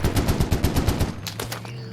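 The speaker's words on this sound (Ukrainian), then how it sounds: "Та хто це стріляє?" Rapid bursts of automatic gunfire in the video game Squad, on a Fallujah map in Unreal Engine 5, rattle loudly for about a second, followed by a few sparser single shots, with no talking.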